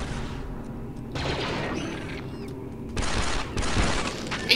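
Sniper fire and other gunfire in the Star Wars Republic Commando video game, with loud bursts of rapid shots and mechanical clatter in dense blocks, pausing briefly before another heavy volley near the end.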